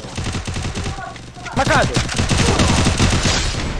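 Video-game gunfire rattles in dense, rapid bursts throughout, loud and close, while a player's voice speaks briefly over the shooting.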